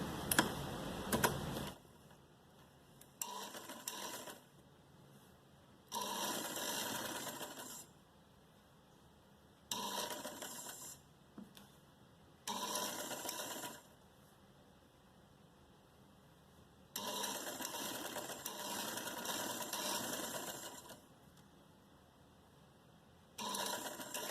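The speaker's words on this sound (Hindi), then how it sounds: "यहाँ से हम सिलाई शुरू करेंगे।" A sewing machine stitches fabric for a designer short frock with box pleats, running in repeated bursts of steady mechanical whirring separated by short quiet pauses, close and clear with no talking.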